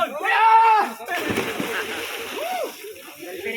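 A person jumps into water during an outdoor Eagles fraternity initiation, making a single close splash followed by sloshing and voices shouting.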